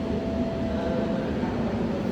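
A Korean metro train runs along an elevated track, producing a steady, continuous rumble with a thin sustained whine that stays even and fairly close for the whole stretch.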